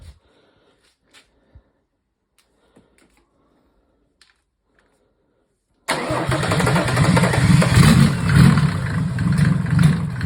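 A Mercedes OM603 diesel with a mechanical injection pump suddenly cranks and catches after near silence, then runs loud and rough with a dense, steady clatter through the rest of the clip.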